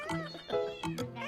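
Housecat caught raiding the fridge for fish, giving a few short close meows in quick succession, alone and fairly quiet.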